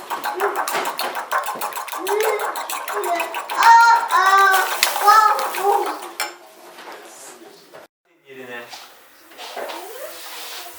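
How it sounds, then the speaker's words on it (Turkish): Eggs seasoned with salt being whisked by hand in a bowl, quick rhythmic clinking and beating up close, with a short pause and a few softer strokes near the end. "Yumurtaları çırpıyorum."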